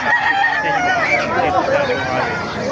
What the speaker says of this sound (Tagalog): napakarami manok